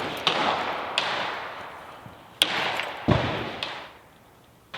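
Black Rain Ordnance rifle, a New York compliant model, fired from a supported prone position: a handful of sharp reports spaced a second or so apart, each with a quick decaying echo.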